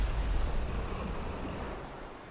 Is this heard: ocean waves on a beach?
yes